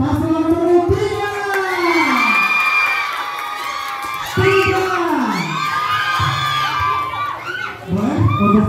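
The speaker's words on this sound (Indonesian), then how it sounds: "Dan beri tepuk tangan yang meriah untuk pasangan nomor 3." Student audience at a school student-council candidate debate cheers loudly, with shrill children's shouts and whoops rising in waves over a steady crowd roar, breaking off and surging again.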